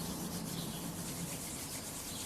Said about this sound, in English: And then rub the hands together